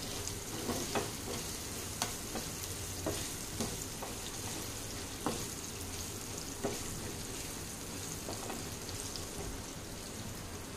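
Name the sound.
mixing raw mango pickle ingredients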